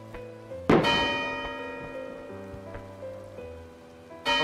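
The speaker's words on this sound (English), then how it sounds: "Oh, look, a gong" A struck gong in the physics puzzle game Human Fall Flat rings out in one loud, shimmering hit that sustains with a long metallic decay, followed by softer ringing tones and another sharp strike at the very end.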